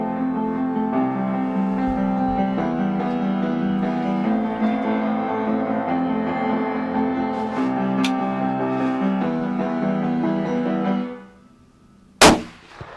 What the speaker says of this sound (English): Oh, you smoked her, Liam. He's down